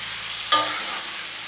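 Bacon sizzles steadily in a frying pan, with a soft scrape as strips are stirred apart midway before the constant crackle carries on, close and alone.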